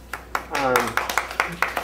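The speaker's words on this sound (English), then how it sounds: "Applause." Audience members clap after a talk on regional policy, producing a run of sharp, evenly spaced claps with a voice briefly speaking over them.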